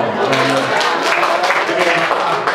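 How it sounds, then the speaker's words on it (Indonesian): An audience at a school event on recognising genuine rupiah money bursts into loud, close clapping that carries steadily through the whole clip. "Tepuk tangan dong."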